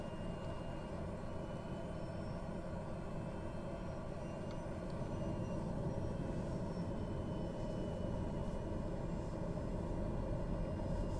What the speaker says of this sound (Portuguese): Motor tá acionado.